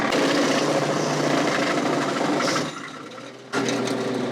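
A loud, rough mechanical roar of a tractor PTO-driven wood chipper grinding wood, running steadily before briefly dipping and bogging down as the tractor's RPMs drop, then surging back.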